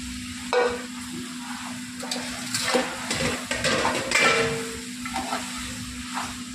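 Chicken pieces stirred in a frying pan with tomatoes for gongura chicken, giving a moderate sizzle with repeated scraping and clinking stir strokes, close and fairly quiet.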